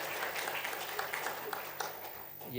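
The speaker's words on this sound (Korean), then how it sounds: "박수로 한번 격려하겠습니다" A church congregation at a Sunday worship service claps in encouragement, a steady, fairly close patter of many hands with a voice starting up at the end.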